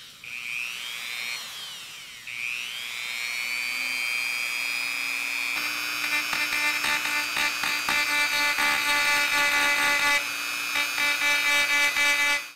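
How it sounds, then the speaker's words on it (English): Old Dremel rotary tool working on wood for pyrography, a high whining motor that ramps up in pitch twice, then settles into a steady loud buzz with slight rhythmic pulsing as it grinds. "you would want to use a Dremel potentially, which is a pretty nifty tool"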